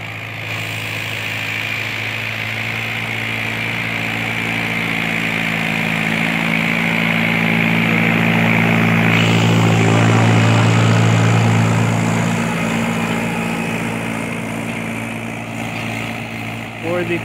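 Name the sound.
Mahindra 575 DI tractor engine running with 9-tine cultivator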